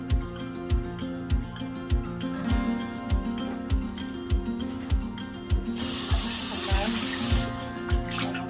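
Tap water runs steadily into a sink while raw chicken is washed in lemon water, with a strong spray burst partway through and repeated low rhythmic thumps under the flow.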